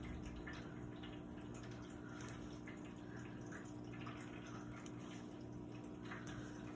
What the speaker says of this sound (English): If you hear that running water, that's just my cat's bowl